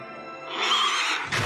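A strange horse in the video game Tales of Arise lets out one loud, drawn-out neigh that rises and then breaks off, ending in a short snort.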